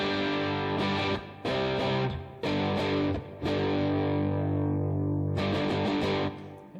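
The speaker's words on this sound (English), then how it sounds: "It's just going to produce more distortion, and that's what the Bad Bob is doing here." An electric guitar overdriven through an AnalogMan Bad Bob boost pedal plays sustained distorted chords in several bursts with short gaps, loud and alone.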